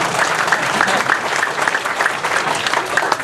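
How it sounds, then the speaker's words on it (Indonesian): A crowd claps at a religious gathering, a dense sustained round of applause filling the whole stretch at fairly loud, even level. "Tepuk tangan."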